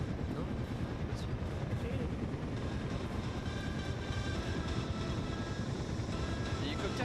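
A steady helicopter drone with rotor chop persists throughout, mixed with game-like rumble and distant bursts, from the video game RV There Yet.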